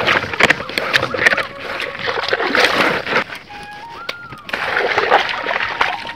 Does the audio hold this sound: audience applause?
no